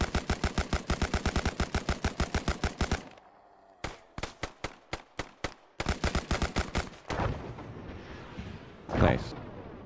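Automatic rifle fire in ARMA 3: a loud, rapid burst of evenly spaced shots, then a pause, then shorter spaced shots and another sustained burst, ending in an echoing thud and rustle.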